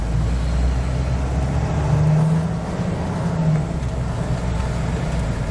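2018 Jayco Greyhawk motorhome accelerating on a slalom course, a heavy low engine drone and road rumble with a slight swell in pitch as it gathers speed, then easing, steady and close with no talking.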